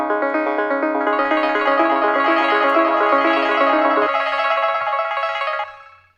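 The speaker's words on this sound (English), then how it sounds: "So with Portal, it sounds like this." A synth run through the Portal granular effect produces a dense, shimmering cluster of tones that holds steadily, thins as the low notes drop out, then fades away, heard alone.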